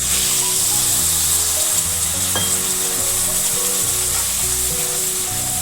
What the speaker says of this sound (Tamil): இப்போது சர்க்கரை பாகு காய்ச்சிடுவோம்.